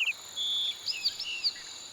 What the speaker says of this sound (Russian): Птицы просыпаются первыми. Их голоса наполняют воздух над водой, разливаясь над рекой и зарослями.